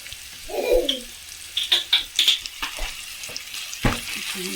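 A pan of mackerel and mushroom stir fry has stock cubes stirred in, heard as a low sizzle with a few sharp, close scrapes and taps of a utensil, spaced irregularly.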